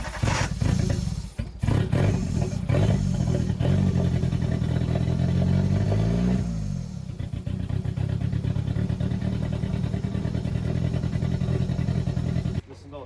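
A Nissan CA18DET engine fitted in a JDM Mazda Miata cranks and fires up for its first start, stumbling then settling into a rough, loud idle close by, with brief clatter and speech around it.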